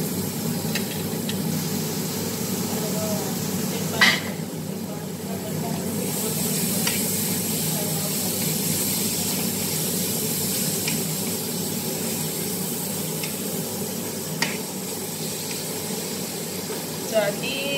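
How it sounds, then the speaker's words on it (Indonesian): Minced meat fries in oil in a pan, a continuous soft sizzle with occasional stirring scrapes and clinks throughout. "ini daging cincang atau lakamaprum, digoreng-goreng dulu supaya wangi sampai keluar minyak"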